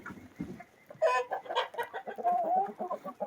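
Laying hens in a coop cluck in a steady run of rhythmic, close calls, starting softly and growing louder and denser after the first second, with a drawn-out note near the end.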